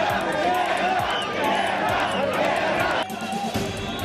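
A rioting protest crowd outside the Seimas, Lithuania's parliament, is dispersed with tear gas: a dense, loud roar of shouting and commotion, with a voice speaking over it.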